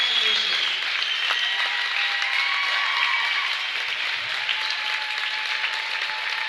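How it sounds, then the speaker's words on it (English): A gym crowd at a girls' high school basketball game between Illini Central and Athens applauds steadily for a player's 1,000th career point, continuous clapping and cheering that holds at a constant level throughout. "as the crowd shows their appreciation with a nice round of applause"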